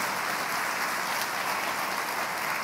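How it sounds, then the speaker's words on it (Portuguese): A church congregation breaks into applause during a sermon, producing a steady, even wash of many hands clapping with no pauses or voices. "Você pode aplaudir a Deus por isso?"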